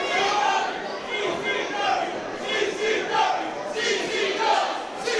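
A wrestling arena crowd shouting and roaring steadily throughout during a tag-team match, a dense, loud wall of voices with swelling chants and rising surges of noise.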